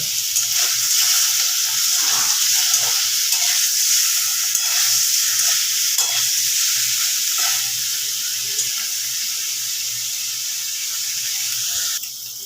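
Steady, loud sizzling of paneer frying in hot oil, with occasional soft taps and scrapes as pieces are turned and stirred in the pan.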